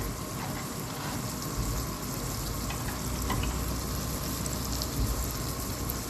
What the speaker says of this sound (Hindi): इनको करूँगी थोड़ा सा फ्राई।